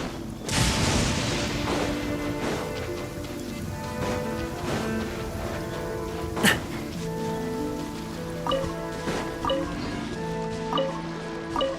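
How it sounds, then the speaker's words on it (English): Steady rain patter with scattered drips in the Genshin Impact video game, heard under soft sustained musical tones, with one louder thud partway through. "Rain?"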